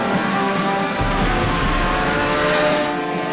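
Race cars crossing the finish line at the end of the 24-hour race at Silverstone: a loud, continuous engine roar with a steady high whine, close and sustained throughout, with no talking.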